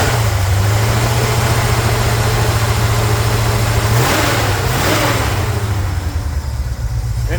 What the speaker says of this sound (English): Nice healthy sounding engine. Chevy V8, small block.